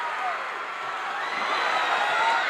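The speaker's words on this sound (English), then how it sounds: "the crowd goes crazy here as they uncork and start wailing away" Wrestling arena crowd at a UWF Mid-South event roaring steadily, a loud unbroken wash of cheering and shouting that swells slightly toward the end.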